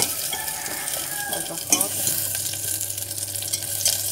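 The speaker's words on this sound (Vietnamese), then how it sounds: "Bớt lửa lại, bỏ hành vô, hành phi," Sliced shallots crackle and sizzle in hot oil in a thin pot, a dense, bright frying hiss with stirring clinks and a brief spoken phrase partway through.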